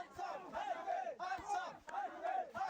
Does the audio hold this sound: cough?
no